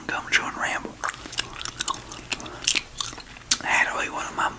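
Gum is chewed close to the microphone in moist, smacky bites under a soft Southern-accented whisper, the wet clicks and smacks steady throughout.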